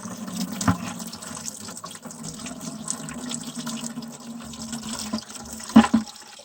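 Coolant drains from a disconnected engine line on a flooded New Holland TC45 tractor, running over the front axle in a steady, close trickle and splash with a couple of brief clanks.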